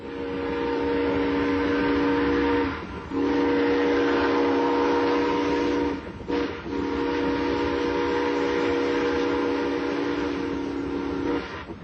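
A steam train whistle blows in long sustained blasts, pausing twice, over the steady rumble of a locomotive.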